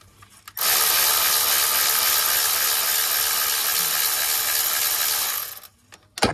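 Ratchet wrench winding a 10mm bolt out of a Ford Fiesta EcoBoost engine during ancillary removal: one continuous, loud, close rapid clicking buzz lasting about five seconds, with brief handling noises before and after.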